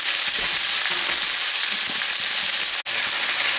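Fish browning in a pan for a seafood brodetto, a dense, loud and even sizzle heard close up, with one abrupt brief dropout near the end and no talking.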